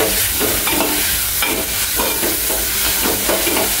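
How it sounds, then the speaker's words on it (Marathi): Dried shrimp (jawla) sautéing in hot oil and masala, stirred with steady, rhythmic scraping strokes over a constant close-up sizzle. "त्या तेलामध्ये, त्या मसाल्यामध्ये चांगलं परतून घ्यायचा आहे"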